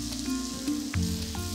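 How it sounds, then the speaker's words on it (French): Chicory sautés in a hot pan, making a brief close sizzle with a few clanks and scrapes from the pan and utensil. "on va faire sauter nos chicons"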